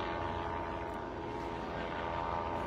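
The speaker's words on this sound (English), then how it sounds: "We've got a helicopter flying over the area now." A helicopter drones steadily overhead, a continuous engine rumble that holds at the same loudness throughout, with no talking.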